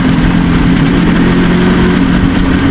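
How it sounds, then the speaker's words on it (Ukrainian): A tuned IZh Jupiter 4 motorcycle engine runs steadily at a loud, close idle in winter, with a constant low rumble and no voices. "Ну, реально, мотоцикл їде класно."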